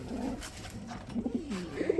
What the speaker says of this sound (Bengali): ভাইয়া কি কবুতর দেখাইতেছেন ভাই?